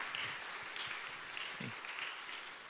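A church youth congregation applauds to encourage its worship team: a soft, steady patter of clapping that holds at an even level for about three seconds, fairly quiet and slightly distant.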